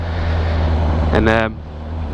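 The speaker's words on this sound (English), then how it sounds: "I rev my engine" A low idling motorcycle engine rumble with a stock, fairly quiet exhaust, then one quick, sharp rev that rises and drops back within a second.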